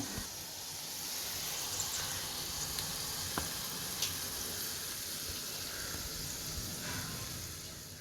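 Fried tempering poured into fish curry, producing a steady sizzling hiss that stays fairly even throughout, with a few faint clicks of utensils.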